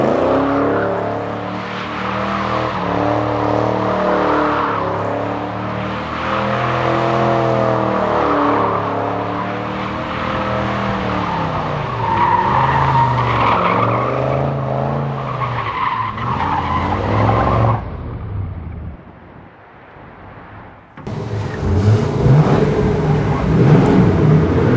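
A cheap classic Corvette, bought non-running and with newly working brakes, driving and accelerating on the road, its engine loud and close with rising and falling revs and tire noise, cutting out briefly near the end.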